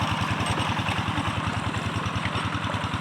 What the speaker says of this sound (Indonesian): Ini traktornya luar biasa, luar biasa.